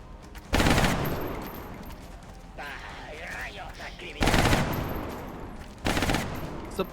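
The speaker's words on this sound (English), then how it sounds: "Suppressing fire." Suppressing gunfire in the turn-based strategy game XCOM: Enemy Unknown, three loud, close bursts of rapid automatic fire, each about half a second long, separated by quieter stretches with a voice talking.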